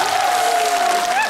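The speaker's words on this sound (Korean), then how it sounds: "아유, 박수 치는구나." Clapping from a concert crowd at Busan MBC Dream Hall, loud and continuous, with a sustained whistle-like tone or voice gliding above the applause.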